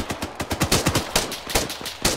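Rapid rifle fire from a military video game, about a dozen loud, close cracks in a quick uneven burst rhythm over two seconds, with no speech over it.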